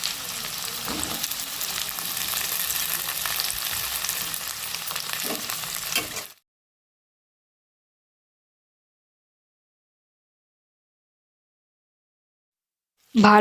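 Chopped chilli, cashews and tomato for upma fry in a pan with a loud, steady sizzle for about six seconds and a few stirring scrapes, then the sound cuts to silence.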